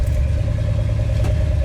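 A car engine cranks over and runs after the gas pedal is pumped, a steady low rumble close by with some clatter and no speech.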